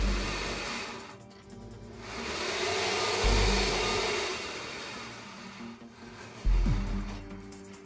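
A VW Tiguan crossover engine roars under load as its wheels spin freely on test rollers, a sustained whining drone that swells and fades with a couple of deep low thumps, loud and close.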